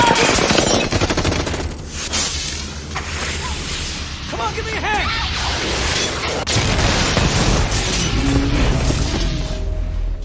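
A dense barrage of gunfire mixed with booms and whooshes in an action thriller film, with a missile attack on a house. The noise is loud and continuous throughout, with scattered voices underneath.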